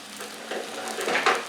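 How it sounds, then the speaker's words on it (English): Food laid gently onto a hot, thinly oiled cast iron pan, a soft close sizzle that swells in brief bursts as each piece touches down. "And then lay it gently onto your hot cast iron."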